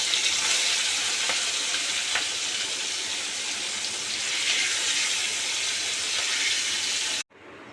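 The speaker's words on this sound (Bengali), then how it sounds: "এই যে আমি চিংড়ি মাছটা একটা একটা করে দিয়ে আমি ভেজে নেব।" Prawns frying in hot oil in a pan, a steady close hiss and crackle that holds level throughout before cutting off abruptly near the end.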